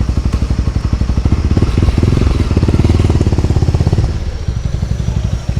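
A motorbike runs close by on a street, its engine putting out a steady, loud, rapid low thumping pulse that swells slightly, then eases back near the end.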